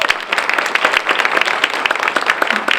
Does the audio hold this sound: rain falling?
no